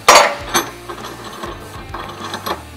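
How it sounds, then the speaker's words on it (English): A spanner wrench clicks and ratchets while adjusting the tube of a Chief running board fixture for a 2015 Ford F150, a sharp initial clank followed by a few lighter metallic clicks, close and clear with no talking. "We're going to take our spanner wrench, place it on so that we can adjust the tube."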